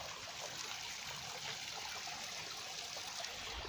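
Steady broadband rush of water pouring at a waterfall in an outdoor setting, a continuous even roar that holds the whole time with no voices over it.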